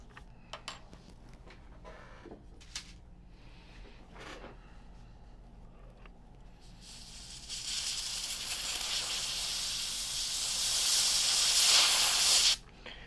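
Can of compressed air blasting across a smashed iPhone 13 Pro logic board, starting with scattered clicks and short bursts, then a loud sustained hiss building over several seconds before stopping sharply.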